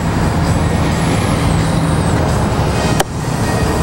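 A Harley-Davidson Fat Boy Low FLSTFB with under 1,000 miles and upgraded chrome slash-cut mufflers gives a loud, steady engine drone close by, broken by one sharp click partway through.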